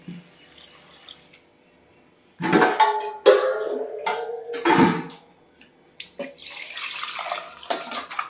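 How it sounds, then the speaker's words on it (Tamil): Water is poured into a pot of mutton gravy with fried onion mixture in two splashing bursts, with gurgling in between, followed by softer kitchen clatter. "தேவையான அளவு தண்ணி ஊற்றுவோம்"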